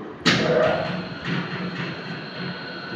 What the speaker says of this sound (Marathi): मोटर फिरत आहे